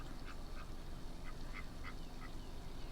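A duck quacks near the water in a park. There are several short, faint quacks in an uneven rhythm over a steady outdoor background hiss.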